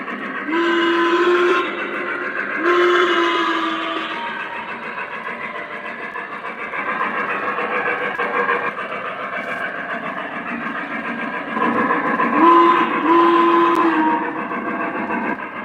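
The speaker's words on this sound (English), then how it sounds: "It's so addicting hitting the horn or the whistle." A model train layout sounds repeated horn and whistle blasts, short tonal toots in several bursts over a continuous rumbling, buzzy running-train background, fairly close.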